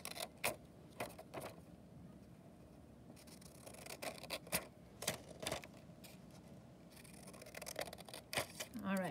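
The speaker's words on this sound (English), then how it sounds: "So I'm going to cut along the dotted lines, stopping at the center." Scissors snipping along dotted lines of a paper windmill template, a series of sharp crisp cuts in irregular clusters, close up and fairly quiet with a faint background hum.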